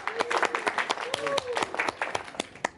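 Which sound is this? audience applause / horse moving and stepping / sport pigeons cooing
audience applause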